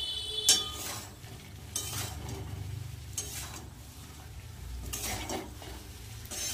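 Fried cauliflower pieces, seasoned with salt, chili and turmeric, are stirred and sautéed in a pan for a vegetarian dish, with soft sizzling under repeated scraping and clinks of a utensil against the pan.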